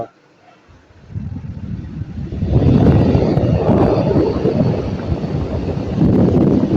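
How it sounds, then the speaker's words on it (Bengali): A rechargeable lithium-battery charger fan starts almost silent, then its airflow whoosh rises in two steps to a loud, steady rush close to the microphone. "অন করে যদি বাড়াইতে থাকি দেখেন ফ্যানটা"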